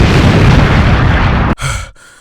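A loud firework explosion used as a sound effect in an animated story, a sustained roaring burst that cuts off abruptly, followed by a brief lower rumble and a quick fade.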